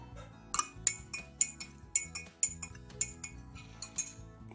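A spoon stirs syrup into water in a glass, clinking against the glass in a steady series of sharp, close taps roughly every half second, with a low musical background underneath.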